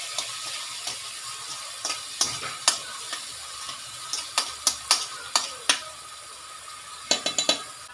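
Ginger, garlic and chili paste sautéing in a pan with curry leaves, a soft steady sizzle under repeated sharp scrapes and clicks of a spoon stirring against the pan.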